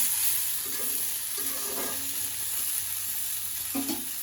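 Bottle gourd stems and potato stir-fry in a hot pan, a steady close sizzle with a few soft scrapes of stirring and no talk.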